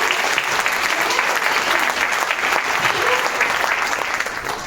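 Steady applause from an audience at a speech event, dense and continuous throughout, with faint voices mixed beneath the clapping.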